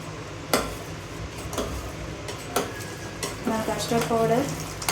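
Custard powder is stirred into boiling milk in a pan for a bread sweet. A spoon scrapes and knocks against the pan in a few sharp clinks over a low bubbling sizzle, and a voice is heard briefly near the end.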